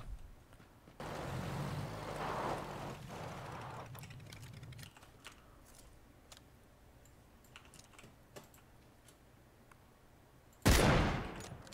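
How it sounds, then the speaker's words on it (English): Gunfire in the PUBG video game comes as a rapid, muffled burst of shots for a few seconds, then scattered faint clicks and pops, with one loud sharp report near the end. "How was that for shooting?"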